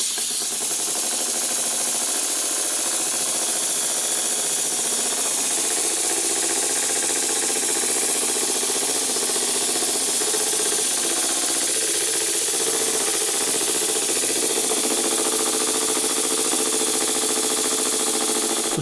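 A Stuart model steam engine runs continuously with a rapid mechanical chuffing and clattering rhythm, close by and steady throughout.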